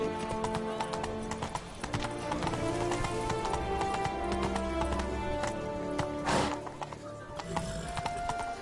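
Horse hooves clip-clop steadily in The Witcher 3: Wild Hunt, Blood and Wine expansion, a continuous rhythmic trot close by, with a brief whinny-like burst and game music layered underneath.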